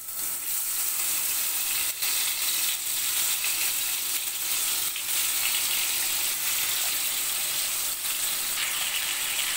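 Hilsa fish fries in hot oil flavored with cumin, giving a loud, steady, close sizzle that crackles continuously without pause.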